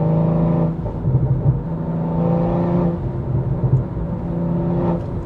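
BMW M240i (G42) engine and exhaust while driving, a steady throaty drone with shifting tones and brief rises in revs, heard from inside the car with no talking.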